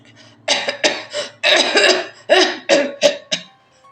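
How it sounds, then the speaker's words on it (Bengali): An elderly man in an audio drama breaks into a hard coughing fit, a close, loud run of about eight rough coughs in quick bursts with brief catches of breath between them. "দমকা কাশি এসে গিয়েছিল, সামলাতে লাগলেন।"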